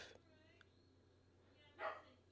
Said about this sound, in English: If you hear the dog barking, it means my mother's probably just turned up